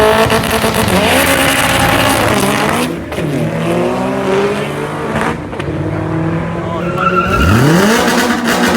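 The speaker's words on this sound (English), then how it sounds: "Mike's up against a Civic" Drag race launch of a Mitsubishi 3000GT VR4 against a Honda Civic at a racing track, with engines revving loud and close, rising and falling gear changes, and tire squeal, while people speak faintly in the background.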